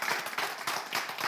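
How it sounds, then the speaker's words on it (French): Short burst of clapping from a small group at a French game show, applauding a contestant called champion; brisk, uneven hand claps fill the moment without speech. "on l'applaudit, champion."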